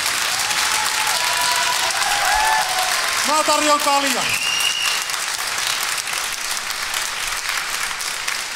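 Sustained audience applause fills the hall after a fight at the AOF8 combat sports event, loud and steady throughout, with a voice briefly speaking over it midway.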